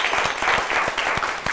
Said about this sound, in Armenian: Ծափարություններ, ծափարություններ